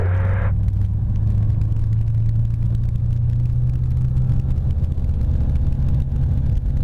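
A light aircraft engine runs up to 4,000 RPM during pre-flight checks, heard as a loud, steady droning roar with a deep hum that holds constant throughout and no voices.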